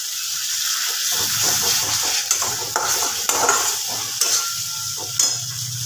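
Mutton mince curry sizzles and fries in a pan as a little water is splashed in, with stirring scrapes and clinks of a spoon against the pan throughout.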